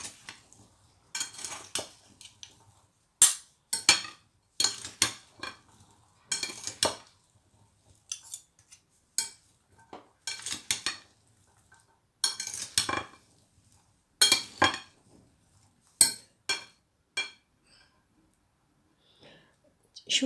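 Spoon clinking and scraping in a bowl while fruit chaat is mixed with a spoonful of sugar, irregular bursts of clatter with short pauses between, fairly close and crisp.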